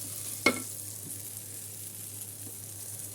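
Eggplant slices fry in a pan with a faint, steady sizzle, broken once early by a brief utensil clink.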